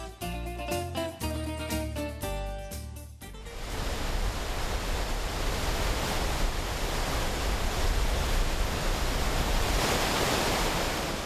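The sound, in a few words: strong current of the Chegem River flowing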